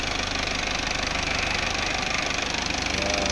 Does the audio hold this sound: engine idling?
yes